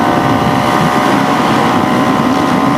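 A Suzuki DRZ 470 motorcycle engine roaring steadily under throttle at high speed, loud and close with continuous engine drone and wind rush, no talk.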